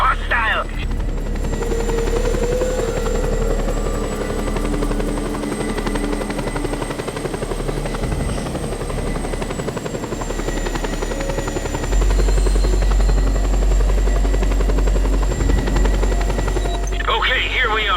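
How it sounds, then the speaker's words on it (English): In the video game Just Cause 2, a helicopter's heavy rotor drone and engine whine sound loud and continuous, with the pitch shifting slightly, while radio voices and game effects play over it. "We have an incoming unknown aircraft,"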